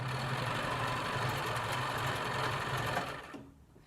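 A sewing machine runs steadily, stitching elastic into a fabric face mask, its close rapid mechanical chatter holding for about three seconds before it slows and stops.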